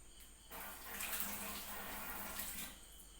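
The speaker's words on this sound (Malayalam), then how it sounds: "അപ്പം നമുക്ക് വീണ്ടും ഒന്ന് കഴുകി" Tap water runs steadily into a sink while something is washed again during mango cooking, a continuous hissing splash that swells after a quiet start and holds until near the end.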